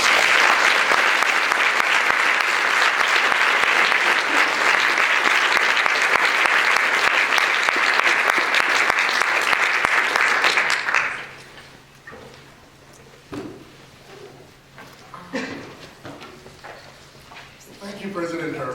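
A symposium audience welcomes a professor with loud, sustained applause that fills the hall for about ten seconds, then breaks off into scattered claps, shuffling and a speaker beginning to talk.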